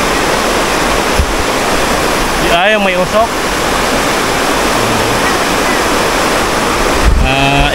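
Strong rushing water of a fast mountain river in Camarines Sur, Bicol roars steadily and loudly close by, with brief voices talking over the constant torrent.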